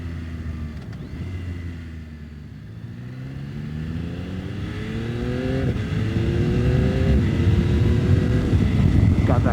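Yamaha YZF-R9 sport bike accelerating hard with its quick shifter, engine pitch climbing, dropping briefly at each crisp upshift and climbing again, growing louder over wind rush.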